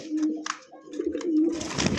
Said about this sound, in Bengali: প্রিয় বন্ধুগণ দেখতে পাচ্ছেন এখানে একজোড়া টাইগার হাইফ্লায়ার কবুতর আছে।